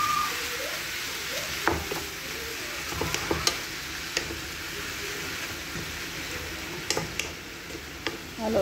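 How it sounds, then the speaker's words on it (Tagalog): Macaroni in béchamel sauce is stirred in a pan, with soft scraping and light sizzling throughout and a few sharper clicks of the utensil against the pan. "Halo lang muna natin siya"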